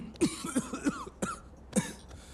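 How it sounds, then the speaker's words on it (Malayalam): Several short, sharp coughs in quick succession, close by and fairly loud, with brief pauses between bursts and no talking. "ചുമ"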